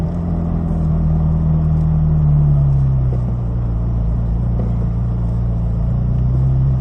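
A McLaren 570S sets off in first gear from a pit lane with a loud, steady engine rumble, close and continuous, its pitch shifting only slightly.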